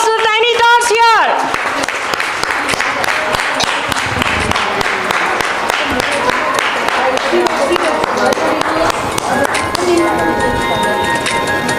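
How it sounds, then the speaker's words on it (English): Audience applause at a lab launch event for young Tiny Tots children on stage: dense, steady clapping that fills the room after a brief voiced opening, with voices mixed in throughout. "A big round of applause to Tiny Tots here."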